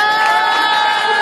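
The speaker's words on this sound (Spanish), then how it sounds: "La Annelise también recibiendo los saludos, los aplausos" A crowd at a school futsal championship award ceremony cheers and shouts in a loud, short burst for the under-14 girls' national champions.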